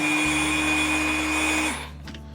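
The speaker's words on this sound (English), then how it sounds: "get yourself a hairdryer or a heat gun" A loud steady blower whine from a hairdryer or heat gun warming tape on a motorcycle helmet runs continuously, then winds down and cuts off near the end, leaving quiet.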